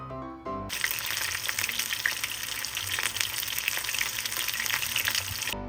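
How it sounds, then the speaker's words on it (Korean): Eel deep-frying in hot oil bursts into a loud, dense, crackling sizzle after a brief quiet start. The sizzle carries on steadily and close up with no talk. "장어를 튀길 땐 물 때문에 기름이 튈 수 있기 때문에 다치지 않게 조심히 튀겨주세요."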